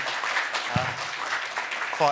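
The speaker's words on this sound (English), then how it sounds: "let's give them both a round of applause" Audience members at a fireside chat clap for the two speakers in a soft, even spatter of hands heard behind someone talking.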